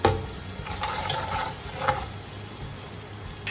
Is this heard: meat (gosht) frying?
yes